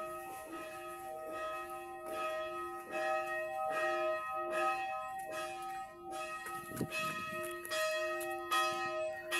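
A church bell rings loudly and repeatedly in a steady, even rhythm, each stroke ringing on into the next, with no voices over it.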